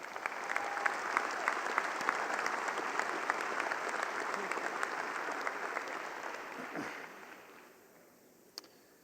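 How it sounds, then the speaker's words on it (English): Applause from a large crowd at an International Holstein cattle show honours the judge, a sustained dense wash of clapping that holds steady and then tapers away near the end. "Let's give him a big round of applause."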